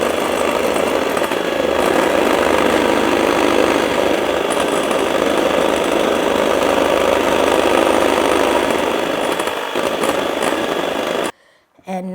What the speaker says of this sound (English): 2 egg whites into a bowl and beat it. Add the whipping cream.